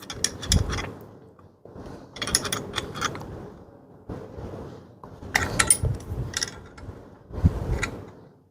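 A lever bolt is tightened on a manual ring pull capping machine, giving bursts of close metallic ratcheting and clicking separated by short pauses.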